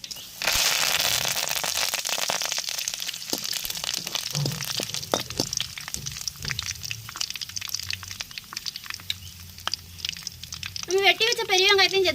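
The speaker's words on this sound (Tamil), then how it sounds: "எண்ணெய் சூடு அரைச்சுங்க கடுகு உளுந்து போட்டுக்கிறோம் ரெண்டு கருவேப்பிலை போட்டுக்கிறோம்" Mustard seeds, urad dal and curry leaves crackling in hot oil in a pan, a dense bright spitting crackle throughout with scattered sharp pops, and a voice talking over it.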